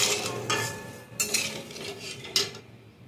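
A spoon stirs sugar syrup in a pot while making gaja sweets, several brief scraping and clinking strokes with quiet gaps between them, close and fairly soft.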